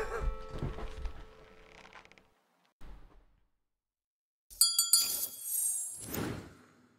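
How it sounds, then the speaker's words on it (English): A bright, ringing bell chime from the online deduction game Traitors in Salem comes in alone after a quieter stretch of game sounds, then fades under a murmur of voices. "Ring the bell."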